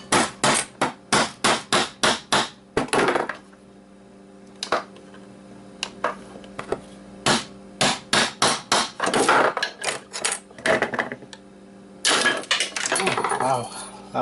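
Metal hammer blows knocking the platter out of a hard drive, sharp ringing metallic strikes in quick bursts of several hits with short pauses between, close and loud.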